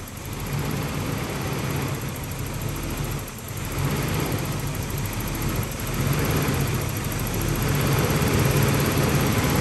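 Engine of a second-generation Toyota 4Runner idling steadily after idle screw adjustment, a constant close rumble with a faint high whine and slight dips in level.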